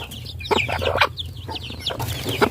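Chickens clucking around a mother hen on a rural farm in the Philippine province, several overlapping clucks and short calls repeating close by, with no talk.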